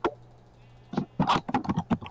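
Computer keyboard typed on right at the microphone: one click, a brief pause, then a quick burst of loud, close, irregular keystrokes.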